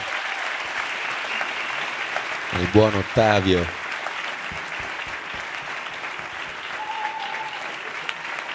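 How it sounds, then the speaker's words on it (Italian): Audience applause as a podcast team member is called on stage at a live episode, continuous crowd clapping with a short spoken phrase in the middle. "Un applauso al buon,"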